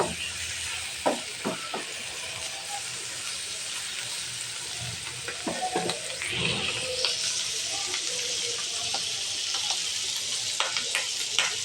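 Chicken and pasta stir-fry in a pan with tomato sauce and ketchup, giving a loud, continuous sizzle with stirring scrapes and spatula knocks on top that swell midway as the sauce hits the pan.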